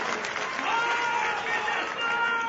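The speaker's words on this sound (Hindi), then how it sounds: "अगर मैं गलत कह रहा हूं तो मुझे बता दो भाई, और अगर सही कह रहा हूं तो ताली को बजा दो" Crowd applause at a political booth coordinators' meeting in a Delhi hall, a brief burst of clapping from the gathered audience that stays steady for a couple of seconds, with a voice faintly mixed in.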